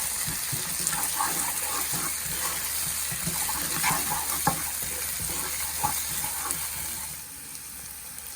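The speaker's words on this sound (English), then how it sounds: "add the chili paste and cook another 1 minute" Chili paste sizzles in a hot pan while being stirred for a Nepali-style Szechuan sauce, a loud, close frying hiss broken by scraping and clattering stir strokes.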